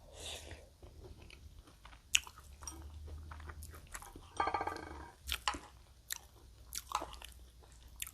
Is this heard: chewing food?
yes